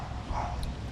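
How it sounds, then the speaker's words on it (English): A dog at a KOA campground in Boone, North Carolina, lets out a single short bark over steady background ambience. "I think that dog wants some of my food."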